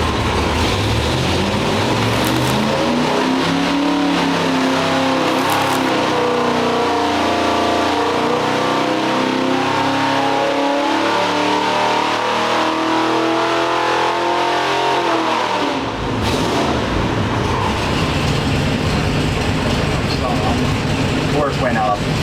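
A 396 big block V8 roars on a dynamometer, loud and sustained as it climbs in pitch through a long pull, then drops sharply near the end and settles to a rough idle.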